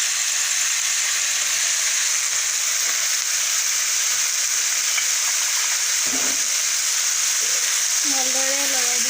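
Meat frying in a pan with ginger, garlic and whole spices, a loud continuous sizzle close up with occasional stirring scrapes, and a voice briefly talking near the end.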